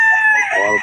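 A young gamecock stag crows once at close range at a crowded rooster market in Bocaue, a loud harmonic call that rises and then trails off, with no other sound competing.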